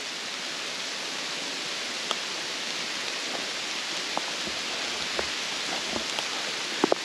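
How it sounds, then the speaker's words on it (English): Steady rain falling by a small creek in the Florida woods, a dense even hiss close by with a few scattered drips and ticks, no voices. "But it's raining."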